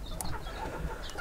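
A couple of roosters kept in a village yard give soft, brief clucks, fairly close and alone against a low background hum.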